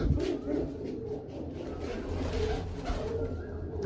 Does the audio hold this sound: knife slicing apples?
no